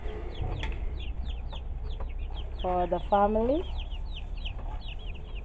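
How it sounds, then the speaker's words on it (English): Small red chickens cluck outdoors, with clucks scattered throughout and one louder, drawn-out squawking call partway through. A person speaks briefly over them. "Little red chickens."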